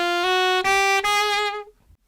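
Saxophone plays a short chromatic walk-up, a few sustained rising notes with clear harmonics, alone and close, ending with a brief fade.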